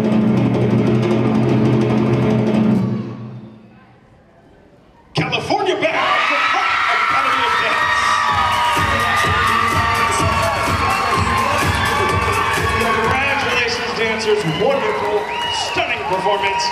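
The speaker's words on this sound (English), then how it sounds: "Let's give them a round of applause." An audience at a KAR dance competition final in Anaheim cheers, whoops and applauds loudly and steadily after a brief quieter moment, with a mix of adult and young voices in the crowd.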